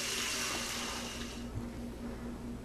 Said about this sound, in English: I've got nice hot water coming out of the tap